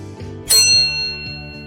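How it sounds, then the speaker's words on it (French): A struck metal gong or bell rings out once as a time-travel transition in a French historical walking tour, a bright metallic strike with a long shimmering sustain over a steady musical background. "attention au gong, c'est parti"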